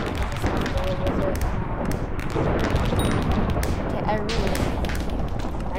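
Explosions and weapon fire in the video game Hypixel Skyblock come as a dense, continuous barrage of booms and blasts that fills the whole stretch, with a voice talking over it.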